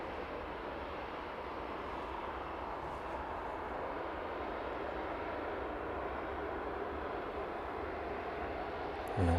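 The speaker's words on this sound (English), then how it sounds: "the final departure of this evening's stream, just about to make its way" An airliner rolls onto runway 09 at East Midlands Airport in the evening, its engines giving off a steady, distant broadband roar that holds level throughout with no voices.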